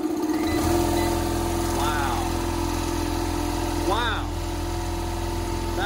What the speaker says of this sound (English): this compressor is a beast. And let's see if it can start it.